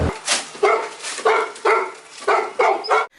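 Search and rescue dogs at a rubble site bark in a quick run of about eight sharp, close, loud barks in a fairly regular rhythm.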